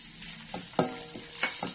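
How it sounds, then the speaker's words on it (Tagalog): Spanish bangus (milkfish) sautés softly with garlic in a pan, with a few faint spoon taps and clinks against the cookware over a quiet sizzle, close but low in level. "Kasi masarap kapag ginigisa."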